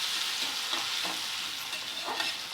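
Chopped tomato frying in a pan with besan and fenugreek leaves for sabji, a steady close hiss of sizzling oil with soft stirring scrapes throughout.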